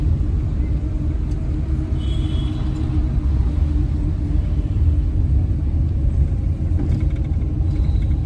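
A car engine rumbles with low steady drive noise during a driving lesson in India, a continuous cabin drone from inside the car, with no clear rise in revs.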